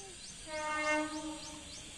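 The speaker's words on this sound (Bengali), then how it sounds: "আর এই যে ট্রেনের আওয়াজ যাচ্ছে" A train on a railway line near a village sounds a tonal horn blast that swells and fades over a low rolling rumble, heard from a moderate distance.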